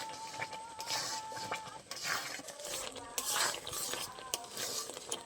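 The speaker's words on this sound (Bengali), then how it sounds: "এখন কিন্তু অনবরত নেড়ে যেতে হবে" A milk and flour mixture for kalakand sweet is stirred continuously in a pan, with steady scraping and clinking of the utensil against metal over a soft sizzle, close by and fairly busy, no talk.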